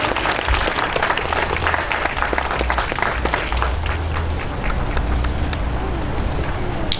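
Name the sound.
audience applause welcoming Major Bongianni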